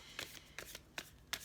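Tarot cards are shuffled and drawn, with four short crisp riffling bursts at even intervals, close and quiet, with no talk.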